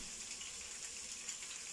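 Pork frying in a pan with onions just added, giving a steady, close hiss and crackle of sizzling that holds at an even level throughout with no talk.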